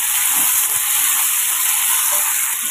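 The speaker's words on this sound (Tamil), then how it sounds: "இப்போ பூசணிக்காய்க்கு தேவையான உப்பு சேர்த்து வதக்கி விட்டுக்கலாம்." Pumpkin pieces sauté with salt in a hot pan, giving a loud, steady sizzling hiss that stays even and unbroken from start to finish, with no talking.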